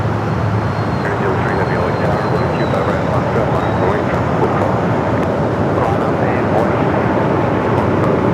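A jet airliner at Los Angeles International Airport gives a continuous, steady engine roar that holds evenly throughout, with people talking over it.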